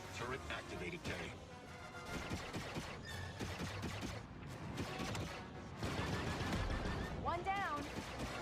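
Turret gunfire from the Trailblazer, a flat pancake-shaped ship in a video game, cracks out in rapid bursts over a dense, busy game mix with music and effects, loud and close.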